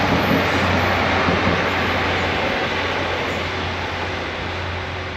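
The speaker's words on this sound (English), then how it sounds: "a northern train just going past" A Northern passenger train rolls past close by on a line at Locomotion, Shildon, a loud continuous rumble and rushing roar of wheels on rails with a steady low hum, no talking.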